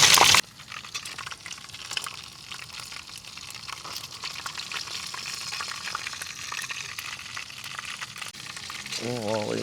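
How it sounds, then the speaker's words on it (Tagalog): Food fries in a pan at an outdoor camp, giving a steady crackling sizzle throughout after a brief loud clatter at the start. "Prito kaya natin ito ulit."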